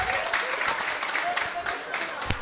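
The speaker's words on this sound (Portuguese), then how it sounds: "Uma salva de palmas para essas crianças maravilhosas" Audience applauding children at a seminar, a crowd's steady clapping, moderately loud, with a voice speaking over it.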